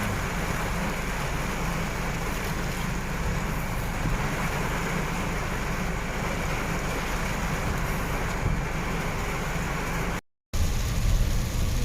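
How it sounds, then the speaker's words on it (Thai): Heavy rain pours down during a thunderstorm in Udon Thani town, a dense steady roar with low rumbling underneath, continuous and close, broken only by a brief cut near the end. "ตอนนี้ฝนตกแรงมากเลย"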